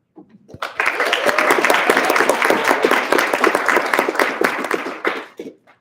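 Audience at a downtown runoff election debate bursts into applause welcoming the candidates, rising quickly, holding steady with crisp individual claps, then fading out near the end.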